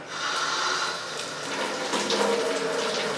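Water runs steadily and splashes down a bathroom sink drain, a close, continuous gurgling flow with no voices.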